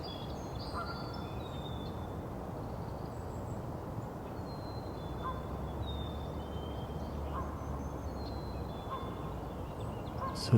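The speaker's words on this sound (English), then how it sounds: "that's not a dog, that's a goose" A goose in a city park gives a few faint, spaced honks over a steady outdoor hiss, with other birds chirping softly at a distance.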